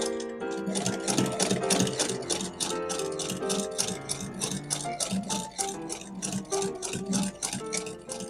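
An antique Singer sewing machine stitches fabric, its needle mechanism clattering in a fast, even rhythm. The sound is close and mechanical, with a steady rattling beat and no talking.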